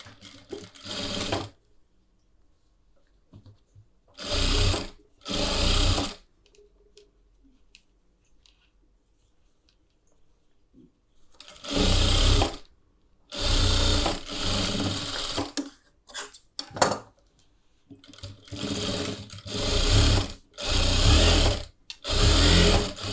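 Sewing machine stitching a blouse collar, running in several bursts of one to three seconds with quiet pauses between, close and loud, with no talking.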